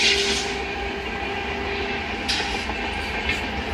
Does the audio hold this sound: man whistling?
no